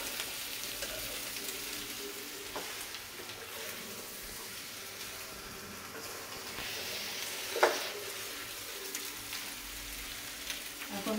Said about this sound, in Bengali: এখন আমি এই আলুটি দিয়ে দিতেছি, আর সাথে জল দেব।